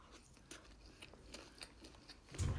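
Someone eats honey walnut shrimp mixed with walnuts, rice and sriracha, giving close, soft crunchy bites and chewing in an irregular rhythm, with a louder burst of munching at the end.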